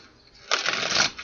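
A deck of playing cards gets a quick riffle shuffle, one brisk crackling burst lasting about half a second, close and fairly loud against a quiet room.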